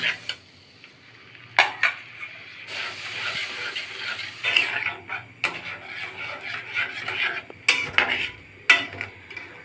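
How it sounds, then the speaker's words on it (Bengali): A spoon scrapes and clinks against a pot while mango pulp is gradually stirred into caramel for a sweet-sour green mango leather, in irregular close bursts with quieter pauses between. "এখন যে আমের পাল্পটা করে রেখেছি তা থেকে আস্তে আস্তে দিতে থাকবো এবং মেশাতে থাকবো।"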